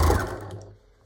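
A home sewing machine stitches ribbon onto a fabric drawstring gift bag, giving a short, close motor whir that starts loud and fades within about a second.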